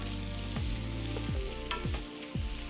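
Andouille sausage sizzles in a skillet with a steady, close crackle of fat, while a few soft stirring scrapes and background music run alongside.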